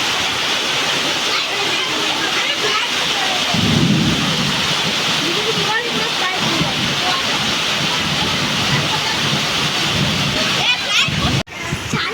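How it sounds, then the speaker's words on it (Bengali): A heavy thunderstorm with pouring rain seen from a rooftop: a constant loud hiss of rain, low rumbles of thunder swelling midway, and a sharp crack near the end, with faint talking in the background. "প্রচন্ড ঝড় বৃষ্টি হচ্ছে"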